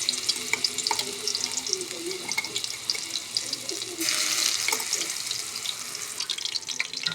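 Spice paste hits hot oil in a pan and crackles with a steady, busy sizzle, with scattered pops and a louder burst of hissing partway through.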